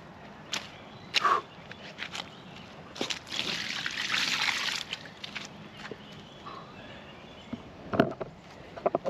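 A carp is let back into the water at a wild fishing spot, making a soft, close splash and trickle among faint drips and scattered small knocks in otherwise quiet surroundings.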